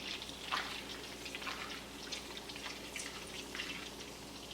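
Two sticks of butter brown in a pan with a steady, soft crackle of fine sizzling pops, like light rain, heard close and alone at low volume.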